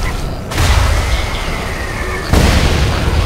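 Heavy gunfire and booming blasts from a machine gun in the video game Saints Row: Gat Out of Hell, loud and dense, with a sharper surge of bursts near the end.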